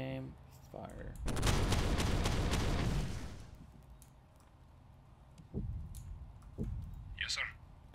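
A burst of heavy gunfire in a World War II tank battle game near Tilly-sur-Seulles, with booming shots crowding together for about two seconds, then a few separate thuds and clicks while voices talk over the action.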